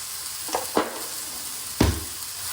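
Meat seasoned with oregano and basil sizzles steadily in a pan, a constant close frying hiss broken by a few sharp scrapes and clacks of stirring, with no talking.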